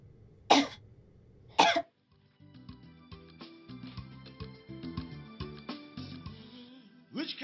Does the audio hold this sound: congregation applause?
no